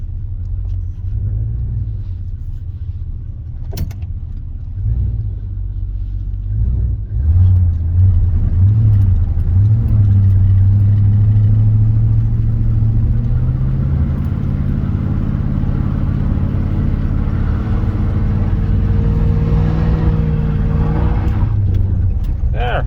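A 1983 Chevy engine rumbles at idle, then revs up hard during a brake stand and holds at high strain for a long stretch, with a few voices talking over it.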